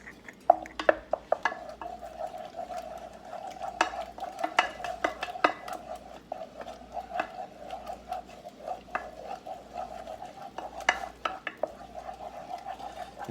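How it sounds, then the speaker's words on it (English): Eggs being stirred one at a time into choux pastry dough for chouquettes, a steady run of close scraping and sticky slapping strokes against the pan with a faint constant hum underneath and no talking. "we're gonna add those eggs in one at a time and really stir well"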